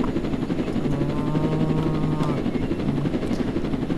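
A helicopter in the Roblox video game: a steady, close rotor drone under a humming engine tone that runs continuously, with a brief pitched whine midway.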